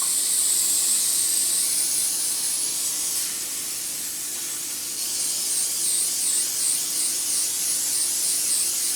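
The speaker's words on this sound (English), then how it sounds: "let's just go ahead and use some non-stick spray" Non-stick cooking spray hisses steadily from an aerosol can onto a baking pan, a long continuous close spray with a brief softer dip midway before resuming.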